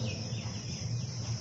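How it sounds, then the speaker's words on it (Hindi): Birds chirp amid a steady outdoor nature ambience during the Delhi monsoon, faint tweets over a continuous background of insects and wind. "चिड़ियों का चहकना"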